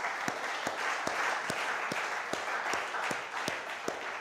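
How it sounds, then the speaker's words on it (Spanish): Rhythmic unison clapping from a church congregation during a sermon, sharp claps about every half second over a softer bed of scattered applause. "Dele un aplauso a Dios"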